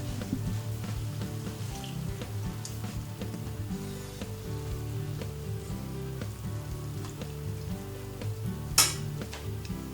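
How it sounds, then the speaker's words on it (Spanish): Vegan black rice sizzles steadily in a pan as a little more broth is poured in, with soft bubbling and clinks over a continuous frying hiss, and a sharp brief rattle near the end. "Le vamos a poner un poquitín más de caldo."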